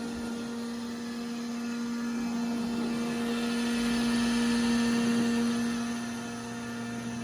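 An iRobot Roomba J7+ Combo robot vacuum runs with a loud, steady motor whine and hum that swells slightly partway through, then eases back, with no talk.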